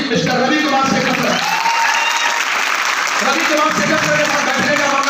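An audience at a speaking event breaks into loud, sustained applause, dense clapping from a large crowd filling the whole stretch without pause.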